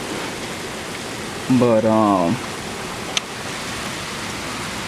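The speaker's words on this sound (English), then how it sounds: "it's been raining like this since yesterday morning" Heavy rain pours steadily onto a soaked suburban lawn during a Chicago tornado warning, a constant dense hiss throughout, briefly interrupted by a short spoken word and a single sharp click.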